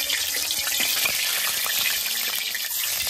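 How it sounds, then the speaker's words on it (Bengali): Oil heats in a wok (kadai) on a stove, a steady, fairly loud broadband hiss and sizzle that runs without a break, with no voices. "কড়ার উপরে তেল দিয়ে দিলাম।"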